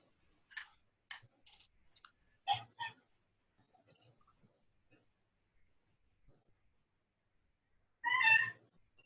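A cat meows a few times in an otherwise quiet room, with short faint calls early on and one louder, drawn-out meow near the end.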